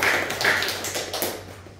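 A church congregation at a Sunday service claps together, a short burst of crisp overlapping hand claps that fades within two seconds.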